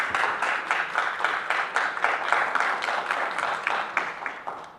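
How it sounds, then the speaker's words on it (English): An audience at a diaspora conference claps for a speaker, steady rhythmic applause with distinct, fairly close handclaps continuing throughout. "Let's give him a round of applause."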